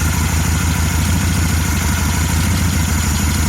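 Steady idle of a 1974 VW Beetle engine, a close, continuous low throbbing rumble with a regular pulse and no talking over it.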